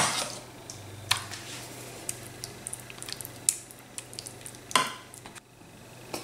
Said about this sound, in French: Une fois que j'ai bien réparti à l'aide de la cuillère, du dos de la cuillère comme ça, pour bien tapisser ma sauce par-dessus les plaques